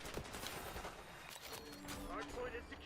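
Gunfire from a balanced gun in the tactical shooter Valorant during a ranked match, a burst of rapid shots and impacts close up, with game effects and voices over it.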